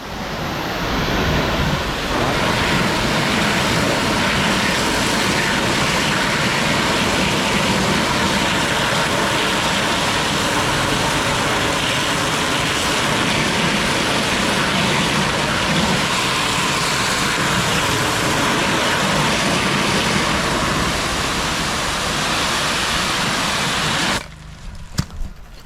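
A pressure washer fitted with a wash jet tip blasts rust off a surface. It makes a loud, steady, broadband hiss that runs unbroken for over twenty seconds and then cuts off abruptly.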